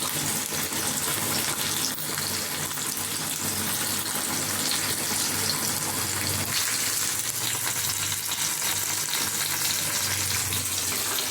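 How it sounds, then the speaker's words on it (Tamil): Fish frying in a hot pan over a medium flame, giving a steady, close, continuous sizzle and crackle with no talking. "மீடியம் ஃப்ளேம்லேயே வச்சுட்டு மீனை ஃப்ரை பண்ணி எடுத்துக்கலாம்"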